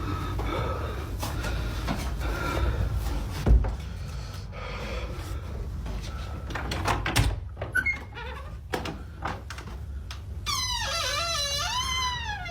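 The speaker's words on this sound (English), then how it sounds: "And your door creaks like that too." After some low rumbling and scattered knocks, a door creaks open with a long, wavering, high-pitched squeal near the end.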